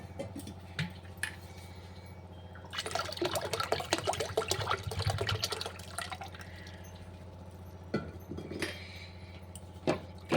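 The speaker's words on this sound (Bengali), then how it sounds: "এবার জল দেবো, অনেকটাই জল দিতে হবে," Water pours in a steady splashing stream into a cooking pot over onions on a stove, a few seconds long and close, framed by occasional clinks and drips.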